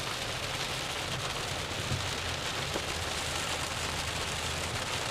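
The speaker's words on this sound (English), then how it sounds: "So we're in a little bit of rain." Light rain falls steadily during a tornado storm chase in Missouri, an even, dense hiss of drops with no voices.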